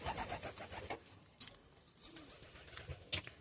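Soft, low cooing of pigeons murmurs faintly, mixed with scattered bird chirps and light rustling nearby.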